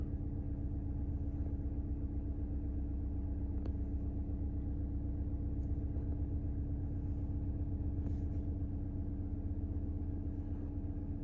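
A car engine runs steadily just after startup, a continuous low rumbling idle with an even hum and no other sounds on top.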